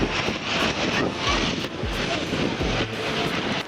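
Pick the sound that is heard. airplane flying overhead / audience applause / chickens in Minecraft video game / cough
airplane flying overhead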